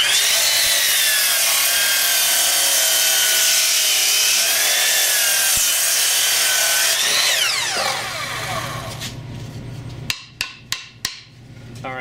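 A hand saw cuts a piece off a wooden board in a workshop, with rapid steady strokes that rasp loudly and continuously, then slow to a few separate heavier strokes as the cut finishes.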